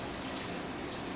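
Water pours steadily over a carbon steel wok being rinsed, a continuous soft gushing rush from a tap, brief and even, with no talking.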